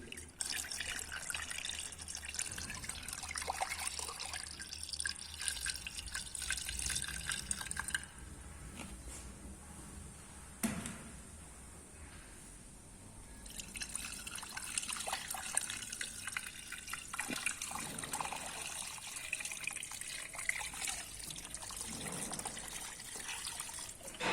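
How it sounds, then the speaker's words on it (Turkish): Antifreeze coolant running from an opened bleed screw on a Renault Megane 1.6 16v engine, a steady close trickle and spatter of liquid that drops out briefly midway before resuming. "Görüldüğü gibi buradan antifriz geldi."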